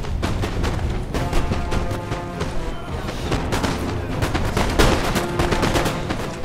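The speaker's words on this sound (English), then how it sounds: "This is pretty much a firefight now." Dense, continuous musket volleys and scattered booms in a Napoleon: Total War multiplayer battle, loud and overlapping with no break, no voice.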